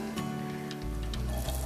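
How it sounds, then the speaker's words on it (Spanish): Onions and other vegetables sizzle in canola oil in a frying pan, a steady close hiss with faint stirring scrapes, no voices heard. "Aquí, aceite de canola. Y aquí, un salteado rápido de hortalizas."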